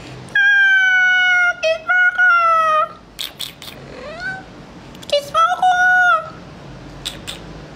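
A pet cat named Naya gives several loud, drawn-out meows in close bursts, with short pauses and a bit of quiet human voice between the calls.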